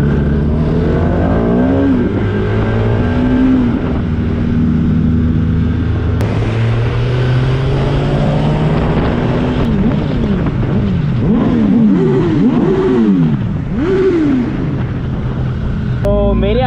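Suzuki GSX-S1000F superbike engine revving loudly and close, repeated throttle blips rising and falling in quick bursts alongside other motorcycles, with people talking nearby.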